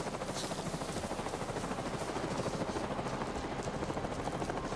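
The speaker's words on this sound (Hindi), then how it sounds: "अरे भाई उधर तो ये हेलीकॉप्टर जा रहा है कोई" A human helicopter in the Avatar: Frontiers of Pandora video game thrums steadily with a rapid rotor chop, a continuous fairly distant drone with no talk over it.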